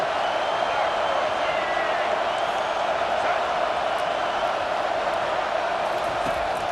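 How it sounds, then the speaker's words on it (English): Home crowd in EA Sports College Football 25 on a third down, a steady wash of distant stadium roar with faint cheering, constant and unbroken beneath the game's sound. "Here comes this home crowd as the defense tries to get off the field on 3rd down."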